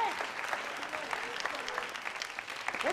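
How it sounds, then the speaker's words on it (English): An audience claps and applauds in a steady, moderately distant patter that runs throughout, with a voice speaking faintly over the clapping. "Why are you clapping?"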